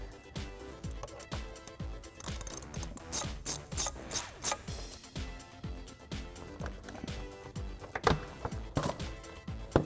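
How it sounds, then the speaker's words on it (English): A hand ratchet with an 8mm socket loosens an airbox clamp on a 2016-2023 Camaro SS during a cold air intake install. Quick, close metallic clicking comes in repeated back-and-forth strokes with brief pauses. "we can do that with an 8mm socket"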